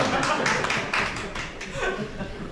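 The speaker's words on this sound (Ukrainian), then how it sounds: "прошу вас під оплески зайняти ваші робочі місця" Applause from members at a Berezne city council session, a scattered, moderately loud patter of clapping lasting a couple of seconds with light chuckling mixed in.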